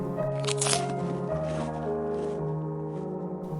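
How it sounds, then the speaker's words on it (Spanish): A creature chewing a cricket gives off a close, moist crunching that runs through the whole moment, layered over a steady droning music bed. "ella arrancó el grillo del suelo y lo metió en su boca, masticándolo felizmente"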